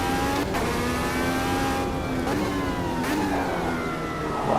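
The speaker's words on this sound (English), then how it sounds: "car definitely sounds different" A 2023 Indycar racing engine in the Automobilista 2 sim racing game revs hard as a loud, close, continuous high-pitched whine. Brief dips mark gear shifts before the pitch climbs again, with no talking.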